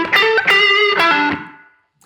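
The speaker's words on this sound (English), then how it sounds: "the first lick is using the first position minor pentatonic scale" Blues guitar lick in E on the first-position minor pentatonic scale, a quick run of sustained, distorted notes with bends, played alone and ringing out to silence.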